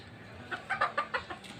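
Chickens cluck in a quick series of about six short, close calls over a quiet background, with no voices.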